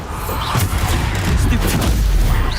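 Bombarda blasting spell explosions in the Hogwarts Legacy video game, a dense run of booming blasts over a loud rumbling low end, with several bright bursts spread across the stretch.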